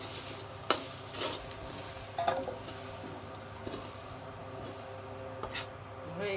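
A spoon stirs and scrapes a pan of frying bean, potato and onion-stalk bhaji with a faint sizzle, a few distinct close scrapes over a low steady background.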